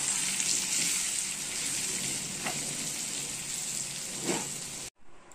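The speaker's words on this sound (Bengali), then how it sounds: "অল্প একটু হলুদ দিয়ে আমি এখন এই আলুগুলো এর মধ্যে ওই তেলের মধ্যে দিয়ে একটু ভালো করে ভেজে নেব" Cubed potatoes dusted with turmeric fry in hot oil in a kadai, a dense, close, continuous sizzle with a couple of brief bubbling bursts, cutting off abruptly near the end.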